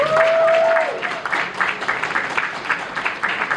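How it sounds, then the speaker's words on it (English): Clapping from the audience at a documentary screening event at the Jamaica Canadian Association, moderate and steady after a brief tone at the start. "Give them a round of applause."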